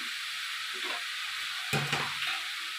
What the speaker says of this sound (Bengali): ভালো করে নড়াচড়াটা করে নিয়ে আমি চাপা দিয়ে দেবো